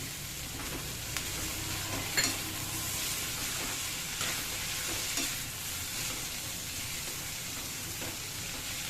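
Tomato fries in oil for a capsicum curry, a continuous loud sizzle broken by occasional scraping stirs and clicks of a utensil against the pan, with no voices.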